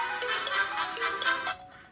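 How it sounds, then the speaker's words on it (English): Barcelona anthem ringtone melody played through the small speaker of an HMD Barca 3210 phone, a bright tinny tune with a steady rhythm that fades out toward the end. "you've got quite a few different Barcelona ringtones there"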